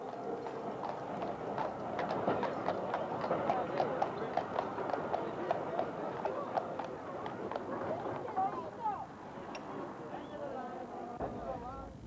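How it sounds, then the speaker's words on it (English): A horse hauls a tram along the Douglas Promenade, its hooves clip-clopping in a steady, close rhythm over wheel rumble for the full stretch, with a voice talking over it. "Meet Rocky, one of 53 horses that pull these trams up and down the Douglas Promenade each season."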